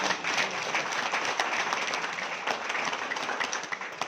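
Audience clapping at a religious or devotional talk, a dense, steady wash of many hands sustained for about four seconds at moderate loudness, with no voices standing out.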